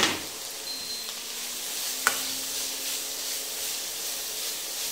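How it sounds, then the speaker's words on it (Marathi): Green beans, carrot and cabbage being tossed in a pan over a high flame, giving a soft continuous sizzle with faint shuffling and one small metallic tap. "आच मोठी करून फक्त थोड्याशा टॉस करून घ्यायच्या, परतून घ्यायच्या"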